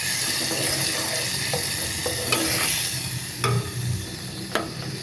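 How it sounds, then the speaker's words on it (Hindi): Turmeric being stirred into a halwa puri mixture: a close, steady sizzle-like rustle of the spoon working through the food, with occasional light clicks and scrapes against the pot and no talking. "अब हम इसको मिक्स करेंगे।"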